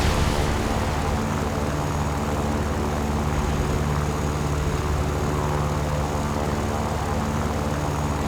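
A propeller aircraft engine drones in a flight combat video game with MiG-15 and Yak-9 planes. The roar is loud, steady and continuous, with no speech over it.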